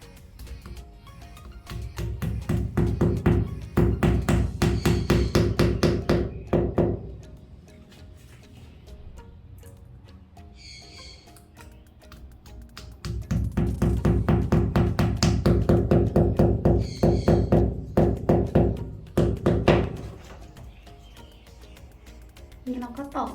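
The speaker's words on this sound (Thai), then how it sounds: "แล้วเราก็ตอกคุกเข้าไปเลย เราตอกลงไปแล้ว" Size 7 wall plugs are hammered into drilled holes for a curtain rail, heard as two long runs of quick, sharp, close taps separated by a quieter pause.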